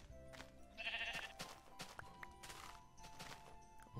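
Minecraft sheep bleating in a blocky video game world, a clear bleat standing out near the start amid soft game noise and small clicks, with no one talking.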